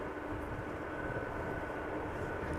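A Cargolux Boeing 747 cargo plane moves near the runway at Amsterdam Schiphol, giving a steady, distant broadband engine rumble throughout with no talking.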